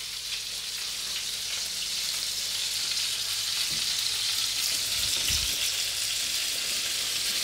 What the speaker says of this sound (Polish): Bo jest smażony na tłuszczu.